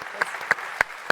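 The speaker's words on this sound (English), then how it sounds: "let's give it a round of applause" Sparse audience clapping at a TV festival panel session, a few distinct claps spaced out over about a second, fairly close and moderately loud.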